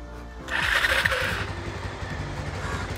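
An old Bajaj Pulsar motorcycle fitted with a keyless remote start system cranks and catches with a short whirring start, then settles into a low, steady idle nearby.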